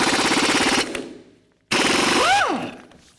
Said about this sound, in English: take a 22mm socket and remove these lug nuts on the wheel